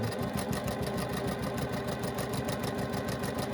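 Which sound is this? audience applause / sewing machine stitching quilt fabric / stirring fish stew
sewing machine stitching quilt fabric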